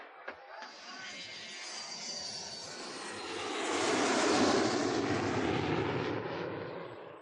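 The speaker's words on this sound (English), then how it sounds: "He got there just in time to see her plane take off." An airplane taking off from an airport: a broad jet roar that swells steadily louder toward the middle and stays heavy to the end, with no talking.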